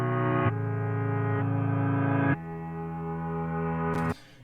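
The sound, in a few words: reversed piano playing chords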